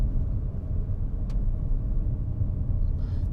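A 2009 Suzuki Alto Lapin X kei car, a Japanese import, drives along and slows under braking, heard from inside as a steady low road and engine rumble with no shifting jolts and no talking.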